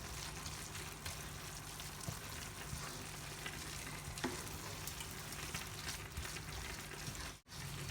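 Food sizzles steadily in a pan while an aubergine and rice gratin is being made, with faint scrapes of stirring in the constant frying hiss and no talking.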